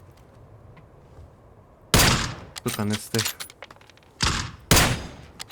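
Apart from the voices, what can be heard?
gunfire in a video game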